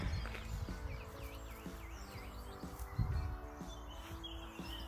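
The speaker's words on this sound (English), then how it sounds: "now that there's no traffic, we can actually hear the birds singing" Birdsong in a quiet residential area with no traffic: several birds chirp and warble in repeated tweeting phrases over a low background hum, fairly distant and soft, with no talking.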